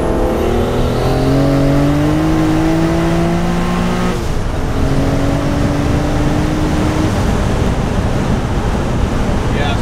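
A car engine revs hard and holds high while brake boosting, its pitch climbing steadily, dipping briefly, then rising again, loud and close, with heavy wind rush over everything.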